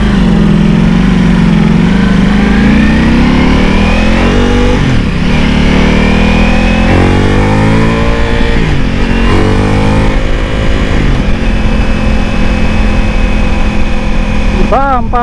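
A Ducati motorcycle engine revs on a test ride, loud and close, rising and falling in pitch through repeated throttle pulls, with someone talking over it.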